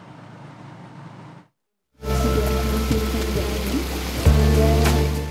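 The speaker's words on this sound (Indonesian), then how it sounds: "Pancuran Pitu atau Pancuran 7 adalah sumber mata air panas alami yang berjumlah 7 buah" Natural hot spring water pours and splashes from the seven spouts of Pancuran Pitu at Baturaden in Banyumas, Central Java, a steady loud rushing that comes in abruptly after a short silence, with a brief louder splash near the end.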